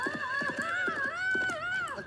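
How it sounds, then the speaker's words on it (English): A horse neighs in a long, strained, rising and falling call, loud and close, over quick rhythmic galloping hoofbeats, with no talk. "I've got to stop that horse."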